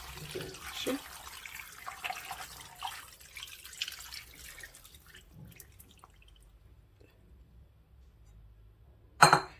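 Liquid is poured into a cooking pot for a Moroccan skhina dish, a soft uneven trickle and splashing that thins out into near silence, ending with a short sharp clink near the end.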